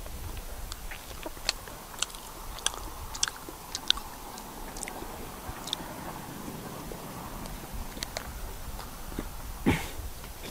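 Someone eating grilled chicken in a Thai garden-side eatery, close soft chewing with small crisp bites and sharp clicks at irregular intervals over quiet outdoor ambience.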